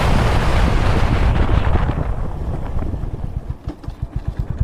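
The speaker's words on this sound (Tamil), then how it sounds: "மக்களே இப்போ என்ன பண்ணுவோம், பிரேக்கிங் டெஸ்ட் பண்ணுவோங்க." A Honda Hyness CB350 motorcycle brakes hard from 100 km/h on an open road, with loud wind rush that fades as it slows. Low engine thumps become distinct near the stop.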